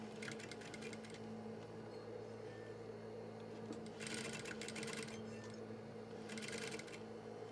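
A sewing machine stitches a facing onto trouser pocket lining in quiet bursts of rapid whirring, separated by pauses, with a low steady hum underneath.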